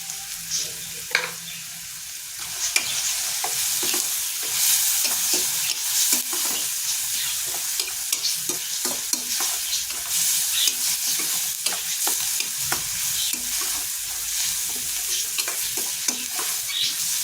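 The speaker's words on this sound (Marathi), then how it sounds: "आता कांदा आपला भाजत आलेला आहे त्यात आपण थोडी हळद टाकूया" Chopped onion with a pinch of turmeric fries in a pan for egg bhurji, sizzling steadily while a spoon stirs and scrapes with frequent close clicks.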